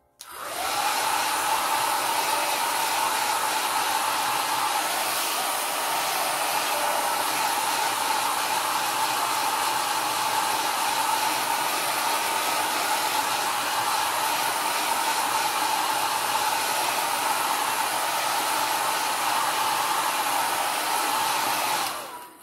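A hair dryer blows continuously on a watercolor painting, a loud, steady, close whirring rush that switches on at the start and off at the end, with no talk.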